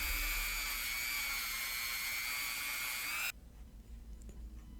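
A rotary steel wire brush spins at high speed during an antique router plane restoration, giving a loud, steady high-pitched whine that cuts off abruptly near the end, leaving quiet background noise.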